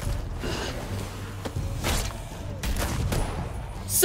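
Gunshots in The Walking Dead: Michonne video game, several sharp reports spaced irregularly over a low rumbling, mechanical background, with no voices.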